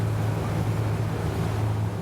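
A steady, deep engine rumble drones with rushing water and wind noise as a motorboat leaves a breakwater in the Maldives, constant and close without any talking.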